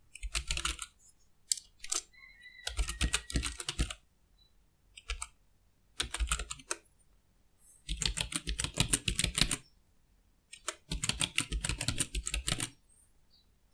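Computer keyboard typing a username and password during router setup: bursts of rapid clicking keystrokes separated by short pauses, close and crisp, no talking.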